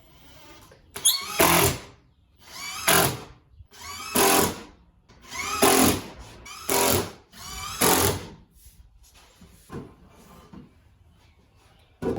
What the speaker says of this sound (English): Drill in the ends right there, then you can probably remove the clamps